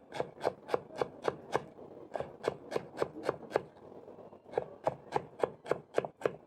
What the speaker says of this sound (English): I have some coriander for garnishing my breakfast, so I'm going to thinly slice.